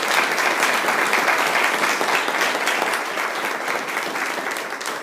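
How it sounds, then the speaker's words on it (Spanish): Steady applause fills a church anniversary service, a dense wash of many hands clapping together for several seconds and tapering slightly at the end, with no voices over it. "¿Cuántos pueden dar un aplauso al Espíritu de Dios?"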